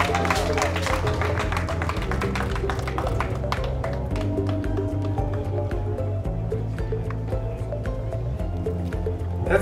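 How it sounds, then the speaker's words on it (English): An audience at a 2019 teachers' conference claps steadily for the Innovative Teacher of the Year award, a close, continuous patter of applause lasting several seconds without pause. "Let's give a clap!"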